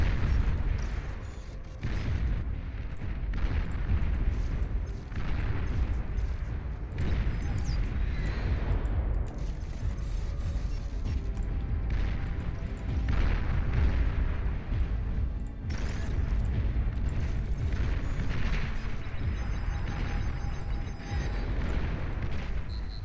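A commander unit explodes in the real-time strategy game Beyond All Reason, a dense, sustained rumble of booms and blasts lasting over twenty seconds with repeated sharp bursts on top, loud and continuous with no talk.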